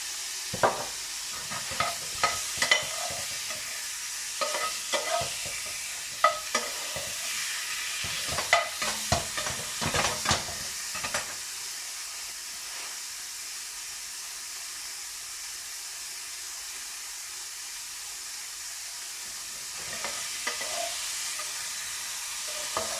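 Meat seasoned and browning in a pan for an oven dish gives a steady close sizzle with clicks and scrapes of stirring, busier at the start and settling to an even hiss later; no one speaks.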